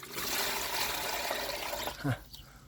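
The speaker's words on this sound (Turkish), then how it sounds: "Suyunu da dökelim. Azıcık dökelim de fazla dökmeyelim." Water pours steadily into a chicken coop's water container for about two seconds with a broad, splashing rush, then stops; a short voice follows near the end.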